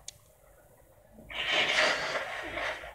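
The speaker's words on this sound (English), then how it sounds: "Blow my nose." A person blows their nose hard for over a second, a close, loud, breathy nasal rush that swells and trails off, after a quiet start with one small click.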